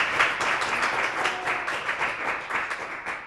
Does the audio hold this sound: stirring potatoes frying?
no